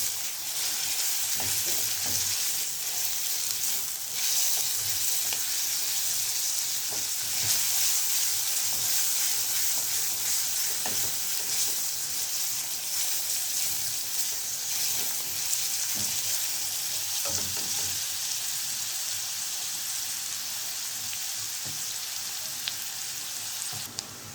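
Sliced onion and a garlic clove fry in a pan with a constant dense sizzling hiss, steady and close throughout, with only faint occasional stirring taps and no voices.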